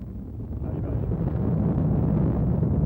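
Ariane rocket main engines igniting at liftoff, a deep, dense low roar that builds over the first half second and then holds steady and loud throughout.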